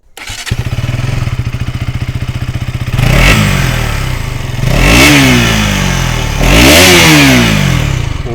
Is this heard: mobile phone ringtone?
no